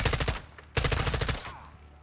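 Rapid automatic gunfire from Call of Duty: Modern Warfare 2 at a cartel hideout, two loud close bursts of quick shots separated by a brief gap, then a fading tail.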